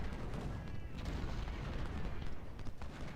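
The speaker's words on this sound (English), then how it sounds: "Oh god, that's gonna be a point-blank volley." Musket volley in Ultimate General: Civil War at the Battle of Fredericksburg: a dense, continuous roar of massed gunfire and booming artillery fills the clip, loud and sustained with no clear pauses.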